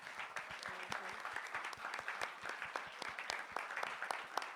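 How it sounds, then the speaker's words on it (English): A community discussion audience applauds its panelists in Milwaukee, a steady wash of many hands with sharp individual claps standing out, sustained and moderately loud throughout with no speech. "Can we please give our panelists another round of applause?"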